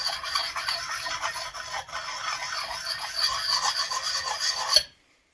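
A Condor Scout hatchet edge is worked with a coarse sharpening stone, producing a continuous close rasping scrape of steady back-and-forth strokes that ends sharply after about five seconds.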